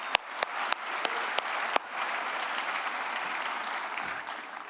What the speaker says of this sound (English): let's give one more round of applause for Brian and all the leadership he's provided the Chamber